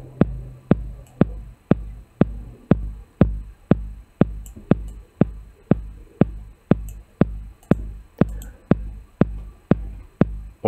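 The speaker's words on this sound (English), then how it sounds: "Maybe on this kick drum, I want to add a compressor." A compressed kick drum from a drum sampler thumps in an even, steady pulse, about two beats per second, each hit punchy and deep with a short decay, loud and alone.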